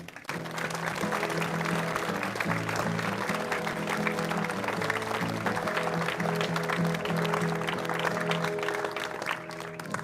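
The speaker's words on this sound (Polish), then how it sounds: "Wielkie brawa." A gathering at a Jasna Góra Appeal ceremony gives a long, sustained round of applause lasting about ten seconds, with steady tonal music or singing running underneath the clapping.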